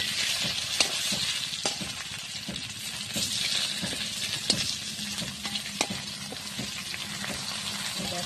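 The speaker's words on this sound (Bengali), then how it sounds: "ভাজা করে নিচ্ছি।" Gajal fish sizzles in hot oil in a wok, a steady loud crackling hiss broken by scattered sharp pops and a few stirring knocks.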